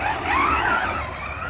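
HPI Maverick Quantum R RC truck running on a damp parking lot, a steady motor whine climbing and wavering in pitch over a constant rushing background, moderately loud and close.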